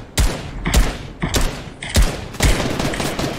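Gunfire from a shooter video game, fired in five sharp, loud bursts spaced roughly half a second apart, heard up close with no talking.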